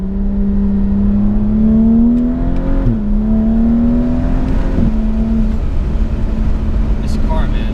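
A turbocharged 2011 BMW 135i engine, making 350 wheel horsepower, drones steadily, its pitch rising and shifting as it accelerates, loud and close.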